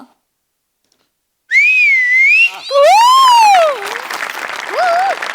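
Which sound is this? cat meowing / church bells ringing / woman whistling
woman whistling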